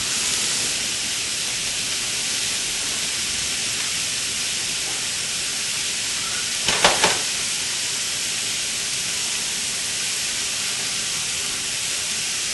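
Small-cut vegetables stir-fry over high heat on a stove, giving a loud, steady hiss that runs unbroken throughout, with a short clatter partway through.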